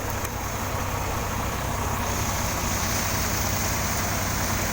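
A farm tractor engine idles steadily, giving a constant loud low rumble with a broad noisy hum that barely changes, and no talking.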